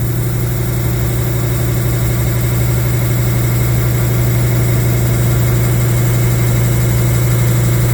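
A saw blade cuts through a slab of petrified wood with a steady, even drone that holds constant and loud from start to finish, with no pauses.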